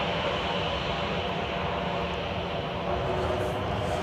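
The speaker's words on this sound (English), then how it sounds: "Got a lot of air traffic that flies over DuPage County." An airplane passes overhead near Chicago O'Hare airport above DuPage County, Illinois, giving a steady, loud engine roar that holds throughout with no break.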